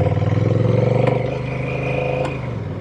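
A Honda Rebel 1100 DCT motorcycle with automatic dual-clutch transmission rides along, its engine a close, loud, steady throbbing hum that shifts pitch slightly as it moves.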